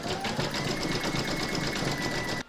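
An embroidery machine stitches a round of an in-the-hoop heart banner, a rapid, even mechanical needle rattle, loud and close, running steadily before stopping abruptly at the end.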